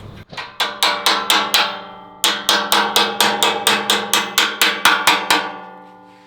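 Rapid, evenly spaced hammer blows ring out with a metallic clank while fitting a cam wheel over the main pin on a Smittybilt Atlas rear bumper for a Jeep JK, two bursts separated by a brief pause, loud and close.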